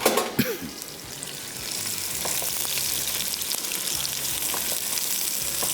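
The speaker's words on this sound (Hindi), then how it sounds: "सबसे पहले इसमें शामिल करेंगे स्लाइस किया हुआ प्याज, और इसकी फ्राइंग शुरू हो जाएगी" Sliced onions go into hot oil and settle into an even, bright sizzle, preceded by a brief clatter at the start and continuing steadily up close.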